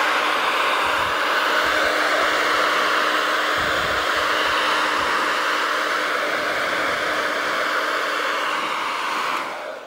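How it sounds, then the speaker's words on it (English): A hair dryer blows continuously, a loud, close, steady rushing whir that fades slightly right at the end. "I discovered that a hairdryer is a really great way"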